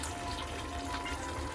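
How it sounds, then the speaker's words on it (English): A cup of water pours steadily into a jar of Korma sauce, a soft continuous trickle and splash at close range with no talking over it. "I'm going to add in a cup of water, which I have already poured in the jar itself"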